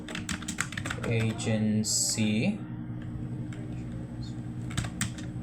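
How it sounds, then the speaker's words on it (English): Computer keyboard keys tapped in a quick burst of clicks, then scattered keystrokes, close and clear while a person speaks over it. "hit enter on my keyboard"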